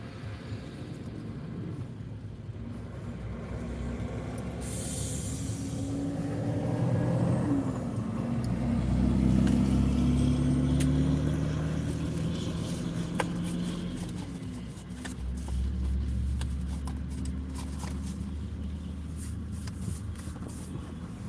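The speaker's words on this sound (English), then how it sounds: "it's a milk truck." A milk truck drives past outdoors, its low engine rumble building from afar, swelling loudest near the middle, then fading with steady road noise underneath.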